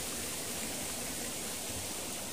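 A waterfall in a quiet forest at dusk, a constant loud rushing roar of falling water with no voices.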